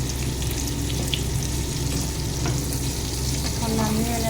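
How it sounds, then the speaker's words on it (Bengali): Potatoes fry in hot oil with a steady, close sizzle and occasional stirring scrapes. No one speaks. "আলু ভেজে গেছে"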